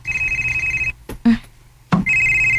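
A telephone rings close by with a steady electronic trilling tone that pauses briefly and then starts again, loud and clear with no voices over it.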